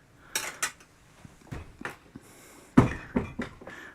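While hops are stirred into a boiling brewing pot, a metal spoon clatters and scrapes against the pot in a handful of sharp, close knocks with quiet gaps between them.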